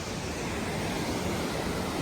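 River water rushes past the last water crossing on the Kinnaur Kailash trek beside a bridge, a loud, steady broadband roar with no break.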